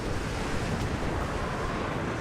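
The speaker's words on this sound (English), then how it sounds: "Ah, it's so windy." Wind gusting in the Tomb Raider video game, a steady broad rushing roar at a constant level with no voices, like an open windswept outdoor area.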